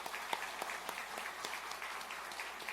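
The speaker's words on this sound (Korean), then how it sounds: "축복의 박수 하겠습니다." A church congregation claps steadily through a retirement ceremony for elders, the applause dense and continuous, with a faint murmur of voices underneath.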